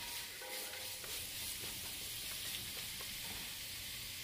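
Seven green onions with most of their green stems saute in oil for a fish and shrimp soup, a soft even sizzle with light stirring scrapes, close but fairly quiet.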